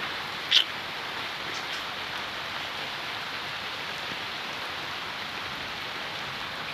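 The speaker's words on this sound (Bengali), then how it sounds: "সারা দিন সারা রাত্রি ধরে বৃষ্টি পড়ছে" Steady, soft rain falling during a monsoon downpour that has gone on all day and night, an even hiss with a single brief tick near the start and no voices.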